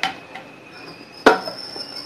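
Cardamom seeds are crushed for homemade vanilla ice cream, giving a faint knock or two and then one sharp, ringing strike on a hard surface that briefly lingers, with no voices.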